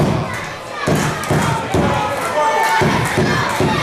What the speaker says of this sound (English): He's got the crowd behind him now. They're cheering for their hero.